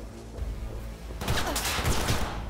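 Burst of gunfire from a firefight in the video game Cyberpunk 2077, starting after a quiet moment and continuing as a dense rattle of rapid shots over low background noise.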